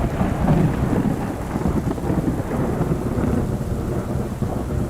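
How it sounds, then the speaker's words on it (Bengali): Rumbling thunder rolls continuously over heavy steady rain in an animated fairy-tale storm scene, loud and dense with no voices. "আকাশে কেমন বজ্রপাত হচ্ছে"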